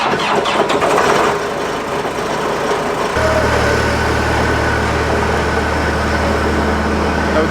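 An old farm boom machine cranks and its engine catches at about three seconds, settling into a loud, steady idle with a low rumbling drone that carries on to the end.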